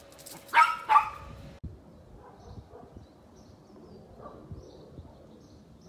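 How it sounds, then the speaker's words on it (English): Dogs bark twice in quick succession near the start, fairly close, then fall quiet under a low outdoor backyard ambience while brisket smokes on a grill. "Dogs are already going crazy"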